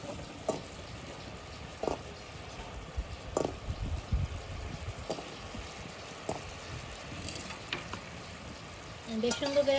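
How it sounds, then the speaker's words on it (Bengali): Gulab jamun made from bread are stirred in hot sugar syrup in a pan, giving a steady low sizzle with scattered scraping clicks from the spoon and a busier clatter near the end. "বেশ সুন্দর করে নাড়াচাড়া দিয়ে নিই।"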